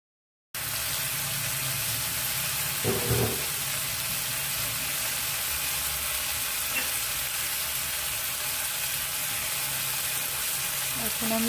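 Tomato sautés in a pan for a Bengali fish curry, giving a steady, close sizzle with a few brief stirring clanks, running continuously after a short silent start.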